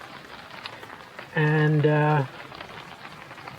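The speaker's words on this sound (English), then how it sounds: "the rain's getting hard" Hard rain drums on a tent tarp at a riverside campsite, a steady close pattering hiss throughout. Someone briefly speaks over it partway through.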